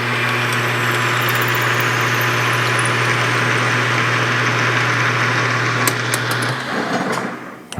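An electric drill runs steadily while boring through an engine piston, a loud, continuous whine with a grinding edge that holds for several seconds before the motor winds down near the end.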